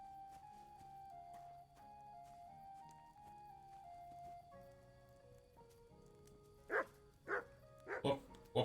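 In the video game Kingdom Come: Deliverance II, a dog gives several short, sharp barks near the end, loud against quiet background music that plays throughout.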